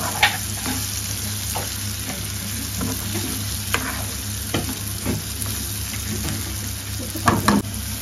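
Spiny gourd curry frying in a pan, stirred with a spoon: steady close sizzle with repeated scraping and clinking strokes of the spoon against the pan, a louder cluster of stirring near the end.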